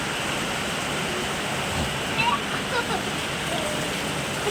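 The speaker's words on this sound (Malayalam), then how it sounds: "അയ്യോ നല്ല മഴ." Heavy rain pours steadily as a broad, hissing wash close by, with scattered splashes and faint background sounds rising through it.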